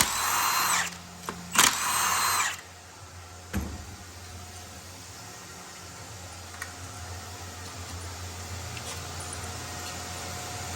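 A CNC machine runs in a transmission repair shop, with loud bursts of machining noise near the start that settle into a steady, low mechanical hum with faint tonal whine, alone without talk.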